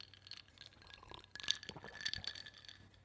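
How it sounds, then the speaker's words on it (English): Ice cubes clink and tap against a glass of water, close to a microphone, in a few short, irregular, bright chinks over about three seconds with faint sloshing between them. "Now, I had a glass of water and ice just like this."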